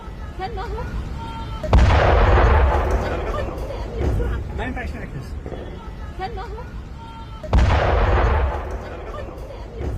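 Israeli airstrike on Houthi targets in Yemen: two heavy booming explosions several seconds apart, each a sudden loud blast with a rumbling decay, over a background of crowd babble and voices.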